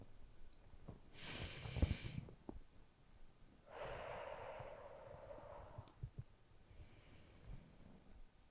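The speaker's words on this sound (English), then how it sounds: "So let's practice hand breathing." Slow breathing drill in a third-grade class: a few long, soft inhales and exhales, each lasting a second or two and spaced apart, with faint exhale hiss over quiet room noise.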